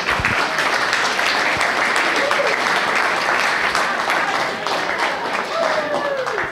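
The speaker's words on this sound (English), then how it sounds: "Everyone give her a round of applause." Audience applause at an evening event, steady dense clapping from a crowd throughout, fairly loud and continuous with no pauses.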